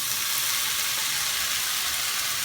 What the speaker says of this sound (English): Now I'm going to add my tomatoes.